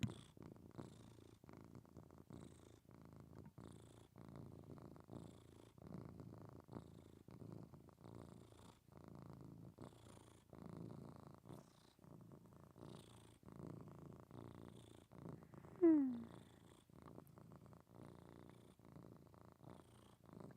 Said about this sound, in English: Also, I can hear the purr.